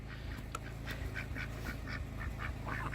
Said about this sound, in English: The ducks absolutely crack me up.